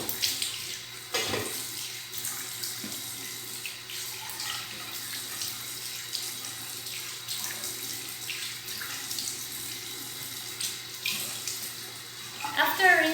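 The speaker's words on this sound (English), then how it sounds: "And then we're gonna rinse it with warm water again." Warm tap water runs steadily into a sink while a face is rinsed, a close continuous splashing hiss with small splashes and shifts as hands move through the stream.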